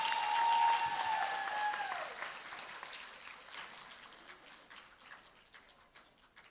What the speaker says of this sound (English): Please give a big round of applause to this group.